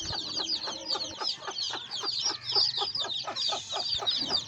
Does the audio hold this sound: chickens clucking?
yes